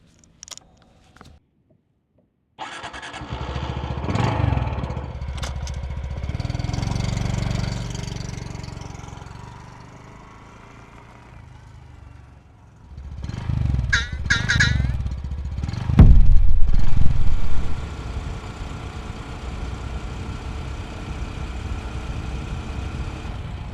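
Honda ST125 Dax motorcycle engine starting after a few faint clicks, then idling and revving unevenly close by, with a louder burst of throttle near the end and no talk.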